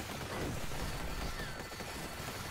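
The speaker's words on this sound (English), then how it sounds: "Just got a cannon and missile and boom." Cannon and missile fire rumble in a space combat video game as dense, continuous noisy blasts and booming fire, a steady wash of explosive sound at moderate level with no clear pauses.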